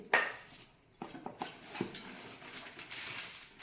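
A small steel pressure cooker is handled, giving a few light metallic knocks and clinks, with a sharp clank at the start and quieter rattles after, close by with no talking.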